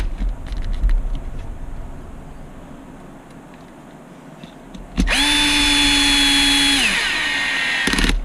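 A power drill whines close up for about two seconds, driving screws into the top brace of an HB Racing D817V2 RC buggy kit, after some quiet handling noise at the bench.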